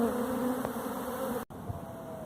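A large honeybee swarm hums and fans at a purple hive box, a continuous close, droning buzz with a steady pitch that drops out for a brief moment before resuming.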